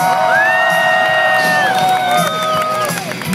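A large crowd roars and whoops loudly and continuously at a BMX bike show at the Texas State Fair, with high shouts and whistles rising above the cheering throughout.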